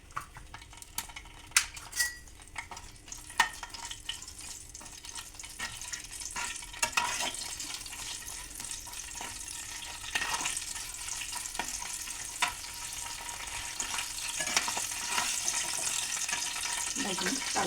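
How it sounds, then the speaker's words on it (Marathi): Cinnamon roasting in hot oil in a pan sizzles and crackles steadily for the whole stretch, with scattered metallic clinks of a spoon or utensil against the pan, growing denser and louder toward the end. "दालचिनी भाजून घ्यायची."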